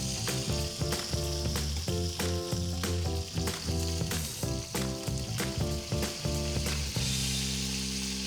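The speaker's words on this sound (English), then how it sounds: "I have one more batch to sear." Chicken sears in a pot for Belizean-style stewed chicken, a loud close sizzle with rhythmic clanks of a utensil against the pot, settling into a smoother steady fry near the end.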